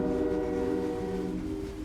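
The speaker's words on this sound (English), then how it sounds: "A lot of the freight trains that are out there," A freight train passing with its horn sounding, a loud sustained harmonic blare over a rumbling rolling roar that fades slightly toward the end; no talk.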